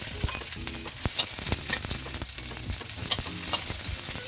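Onion sizzling in hot oil in a wok for stir-fried udon, a dense crackling hiss with repeated scraping stir strokes at an uneven rhythm, close and fairly loud, no talk.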